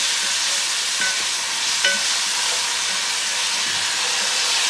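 About 200 grams of chopped onion frying in a pan for seekh kebab biryani, a steady broadband sizzle and hiss with a couple of faint utensil clicks, no voices.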